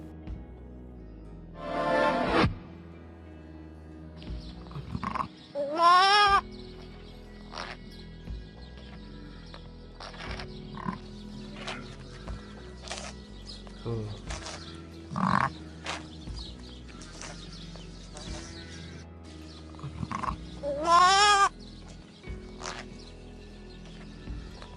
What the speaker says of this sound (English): the lamb was filmed making a number of peculiar grunting noises